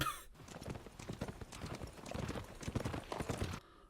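Rapid horse hooves clip-clop loudly and continuously, with a brief whinny near the start, from a House of the Dragon episode featuring a jousting tournament at a wedding.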